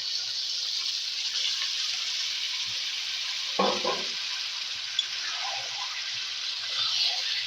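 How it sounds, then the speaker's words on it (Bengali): Lotte fish rubbed with salt and turmeric fries in a pan with a steady, loud, close sizzle that lasts throughout, broken midway by a short clatter of stirring. "এবার আমি সেই লবণ আর হলুদ মাখা মাছটাকে ছেড়ে দিলাম"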